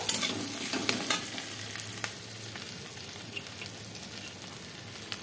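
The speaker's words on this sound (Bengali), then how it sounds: "আলুটা দিয়ে আমি একটুখানি নাড়াবো, পেঁয়াজটার সাথে আলুটা মিশাবো।" Potatoes stirred together with onions frying in a pan, with steady close sizzling and repeated scraping strokes of the stirring, louder at the start and then settling into a continuous crackle, with no talk.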